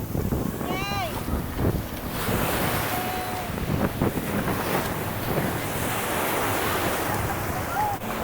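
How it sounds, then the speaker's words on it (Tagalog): Strong ocean waves crash and roar continuously at a beach, loud and close with wind buffeting the microphone, while people talk and call out faintly in the background. "Ay, ang lakas ng alon."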